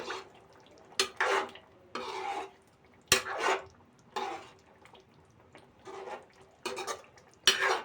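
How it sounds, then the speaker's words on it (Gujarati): A spoon scrapes and stirs an egg and green pea curry in a pan in repeated short strokes, each a soft wet scraping burst with brief clinks against the metal, close and fairly quiet. "હવે આને આપણે હલાવી નાખશું."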